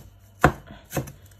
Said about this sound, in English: I've got a wee handful of basil and I'm just going to chop that up